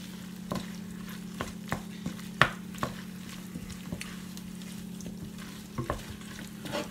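Chicken curry sizzling in a pan as tomato puree is stirred in, with a steady frying hiss broken by repeated sharp scrapes and taps of the spoon against the pan, no talking.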